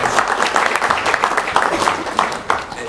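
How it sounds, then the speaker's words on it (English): Audience applause at the close of a condensed matter panel session, dense steady clapping from a room of listeners that stays loud and even for about three seconds. "Let's give them a round of applause."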